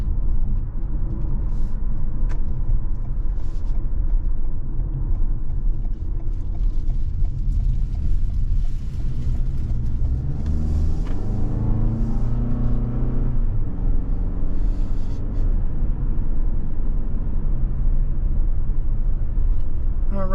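A 2023 Toyota RAV4 TRD Off Road rolls down a road, a steady close engine and tyre rumble with a rising mechanical tone partway through.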